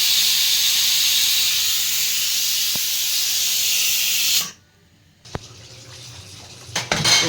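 A pressure cooker cooking mango dal vents a loud, continuous, close jet of hissing steam that cuts off abruptly, leaving a quiet kitchen with a few light knocks and clinks afterward.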